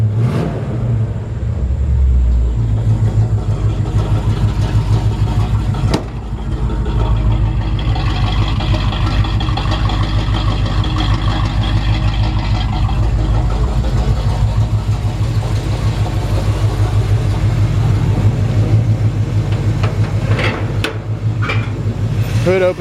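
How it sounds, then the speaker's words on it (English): A 1952 Chevrolet 3100 rat rod truck idles with a loud, lumpy rumble close by, running steadily throughout with a few knocks and clicks, while someone speaks over it. "It's a really nice sounding, mean sounding engine."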